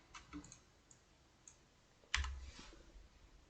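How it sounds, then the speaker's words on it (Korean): Mouse clicks in SketchUp with the Alt key held: a few faint, light clicks early on, then a single sharper click near the two-second mark over quiet room noise. "Alt 키를 누르고 클릭을 해서 얘는 하나만 클릭을 하면 되겠죠"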